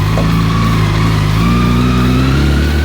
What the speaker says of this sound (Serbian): Spakovan sam, sedam na motor i krećem